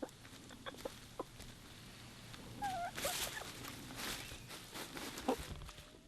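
Free-ranging chickens on a remote island farm cluck softly and intermittently, with short faint calls and scattered rustling over quiet background.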